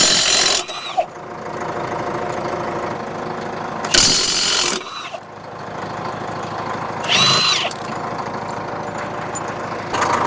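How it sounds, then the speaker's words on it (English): Three loud, rattling bursts of an air-powered impact wrench removing a tyre from a grader ring out over its steady idling engine, each lasting under a second, spaced a few seconds apart. "So we're going to rattle that tyre off."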